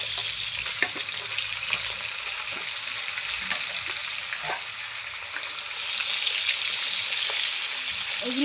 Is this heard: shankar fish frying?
yes